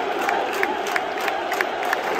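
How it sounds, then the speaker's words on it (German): A stadium crowd at Benfica versus PSG roars and applauds the Benfica players, a dense wash of cheering with sharp rhythmic claps and shouts rising through it. "Die Benfica-Spieler kriegen ihren absolut verdienten Applaus."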